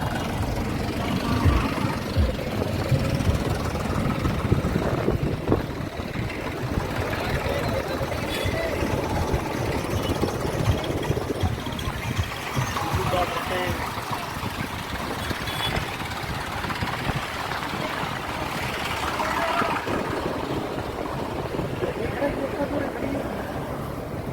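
Tractors on a farmers' protest march heading toward the border, a continuous low rumble of many idling and moving engines with crowd babble and voices throughout.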